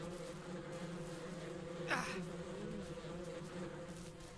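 Bees buzz in the Ranch Simulator video game as a steady, continuous drone, with a brief louder flutter near the middle.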